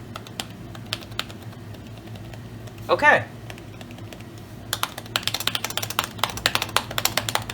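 Keys clatter on the keyboard of a PowerBook 3400c laptop, a quick burst of close, crisp clicks building to steady typing after a brief spoken word.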